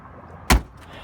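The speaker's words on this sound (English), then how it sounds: "Doors shut great," Lada Niva 2121 car door shutting with one solid, close thump, alone against quiet background.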